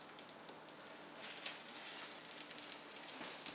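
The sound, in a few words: western omelette sizzling in a pan after flipping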